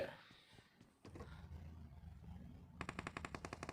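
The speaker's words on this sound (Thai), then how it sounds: "เสียงปืนรอบทิศทางเลย" Gunfire in the mobile battle-royale game PUBG Mobile: after a muffled thump, a rapid rhythmic burst of automatic shots rings out near and loud, preceded by rumbling game ambience.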